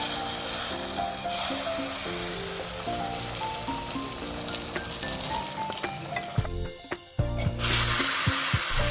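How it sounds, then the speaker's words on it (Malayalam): Mustard seeds, dried red chillies and curry leaves tempered in hot coconut oil and poured over mango pachadi, giving a loud steady sizzle and crackle with faint background music and a brief dip near the end. "കടുക് വറുത്ത് ഒഴിച്ചു കൊടുക്കാം."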